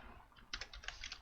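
Quiet, close keystrokes on a computer keyboard while HTML code is typed, a quick run of about eight light clicks in the second half with no talk.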